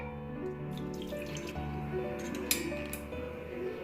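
Water runs from a kitchen tap into a glass, a steady close flowing stream with a brief clink partway through.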